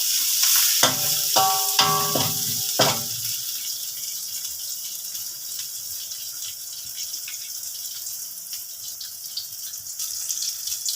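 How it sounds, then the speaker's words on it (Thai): Pork belly is stir-fried in a pan for a pineapple soup, with a few sharp clanks of stirring at the start and then a continuous soft sizzle that fades slightly. "เอาหมูสามชั้นลงไปผัดเลยพี่นาะ ผัดให้หอมให้"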